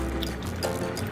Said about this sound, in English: just add boiled water